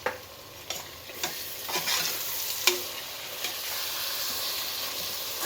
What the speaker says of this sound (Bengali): রসুন বাটা দিচ্ছি, মাটন তো একটু রসুনটা বেশি লাগে।